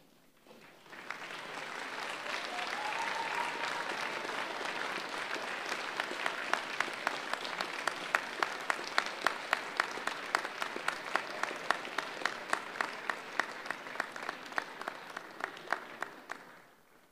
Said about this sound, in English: offer a warm round of applause to your family and friends for all their support